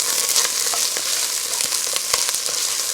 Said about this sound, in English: So I got a whole onion, smaller onion, that I cut up, diced up. Going to cook that in here.